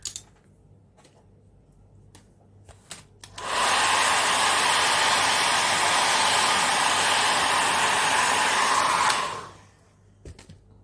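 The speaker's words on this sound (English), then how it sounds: "I'm using a regular hair dryer." A regular hair dryer blows steadily for about six seconds as it dries a wet art journal page, a loud, even whooshing roar that starts and stops abruptly, with quiet handling sounds around it.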